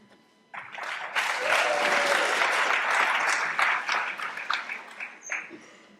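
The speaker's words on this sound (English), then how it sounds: "It's a much better applause than you're going to give me" Applause from an audience at a morning meeting starts abruptly, builds to a full, dense clapping for a few seconds, then thins out and fades to a few scattered claps.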